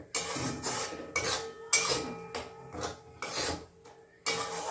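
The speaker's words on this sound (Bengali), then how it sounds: "সব কিছু দিয়ে এবার একসাথে এবার আবারও কষে নেব" Rui fish kalia masala sautéed and stirred in a pan over a low flame, with repeated scraping and clinking strokes of a spatula against the pan in an irregular rhythm, close and moderately loud.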